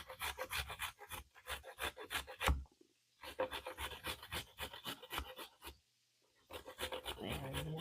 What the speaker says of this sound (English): I'm going to take off the ends of my carrots and we're just going to grate them that way.